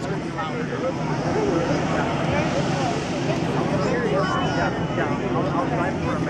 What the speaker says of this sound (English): We'll see them spool up and the burners will go